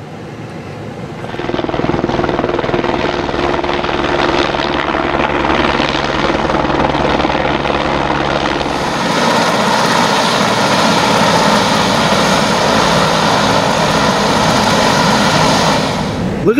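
Loud, steady thrum of a helicopter engine and rotor, starting quietly then swelling and holding close for a long stretch, brightening partway through.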